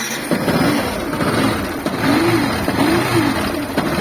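A motorcycle engine with a fault that sounds like a worn clutch bearing runs steadily, a close, loud mechanical drone with faint whirring undertones and no talking.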